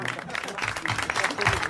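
A studio audience at a 1981 French television show applauds, a dense wash of clapping with a voice speaking over it.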